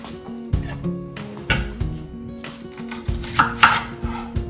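A knife chops vegetables on a board in a steady run of sharp, close knocks, with a brief pause partway through.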